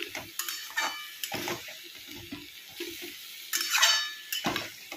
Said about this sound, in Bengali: আস্তে আস্তে করে সব একটু মিশিয়ে নিতে হবে আলুর সঙ্গে মোচাটাকে